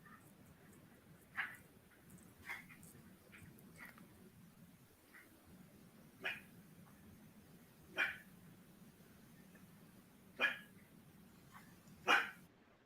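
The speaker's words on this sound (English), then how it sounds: "My dog barking at Ghost outside." A dog barks outside from some distance, giving about seven separate sharp barks spaced irregularly over a low, steady background hum.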